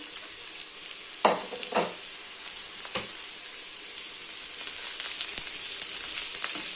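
Vegetables with carrots fry in a pan as the base for an okra stew, giving a continuous bright sizzle with a few scraping stirs near the microphone.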